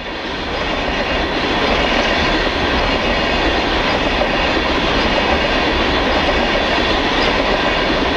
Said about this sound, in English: SD60s leads a westbound coal train.